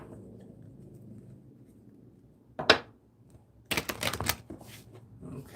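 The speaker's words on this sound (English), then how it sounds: "Okay. All right, let's shuffle these." Tarot cards are shuffled by hand in a couple of quick riffling bursts after a soft rustle, close and fairly loud against a quiet room.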